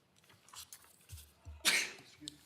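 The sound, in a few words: sneeze during a meeting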